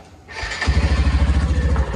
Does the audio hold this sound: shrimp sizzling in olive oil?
no